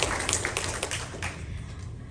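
Audience applause for a committee at a community meeting, a steady patter of scattered hand claps from a modest crowd, fairly close and lasting a couple of seconds.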